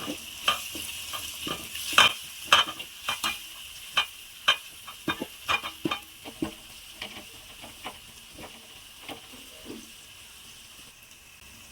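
Paneer cubes are stirred in a pan with turmeric, salt, chili powder and biryani masala, a faint sizzle under a run of crisp spoon scrapes and taps that slow and soften over time.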